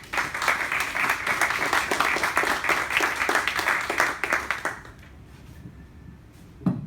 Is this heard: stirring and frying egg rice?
no